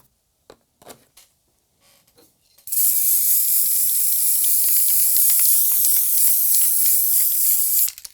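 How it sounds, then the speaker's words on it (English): Aerosol spray hissing over a static grass scenery layer: a few faint handling clicks and rustles, then one long, loud, steady spray burst lasting about five seconds before cutting off. "Again, another layer and spray."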